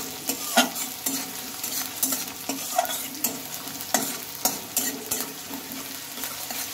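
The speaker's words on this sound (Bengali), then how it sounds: "আর পেঁয়াজটাকে একটু ভালোভাবে ভেজে নিতে হবে।" Chopped onions frying in a pan, a steady sizzle broken by repeated sharp scrapes and clinks of a spatula stirring against the metal, close and fairly loud with no talking.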